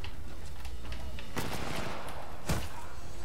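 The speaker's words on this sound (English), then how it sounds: "the guns have got some real grunt" Guns firing in Titanfall 2: a rapid rattle of gunfire with two sharp, heavy bursts standing out, the second landing with a deep thud.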